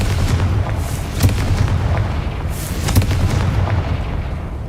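A Confringo spell explosion in Hogwarts Legacy gives a loud rumbling blast with deep booms and crackling bursts, sustained and dense, with no voices.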